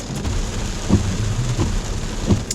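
Steady heavy rain hisses continuously, with a few low rumbling bumps underneath; no voices.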